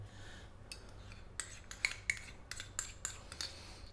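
A spoon mixes Hellmann's mayonnaise with cumin powder and black pepper in a bowl, giving a quiet series of soft scraping clinks and taps against the dish, close and alone.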